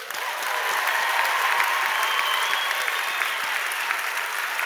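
Large audience at a Stellenbosch University AgriSciences graduation ceremony applauding doctoral graduates, a steady, dense wash of clapping that fills the hall from start to finish.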